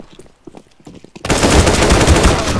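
Sustained automatic P90 gunfire in a first-person video game shooter, loud and continuous rapid bursts that erupt after a second of quieter in-game clatter and movement.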